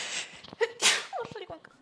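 A single sharp sneeze bursts out amid game-session chatter, a short breathy explosion followed by voices talking nearby during a cooperative exorcism horror game.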